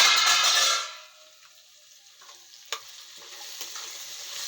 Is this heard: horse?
no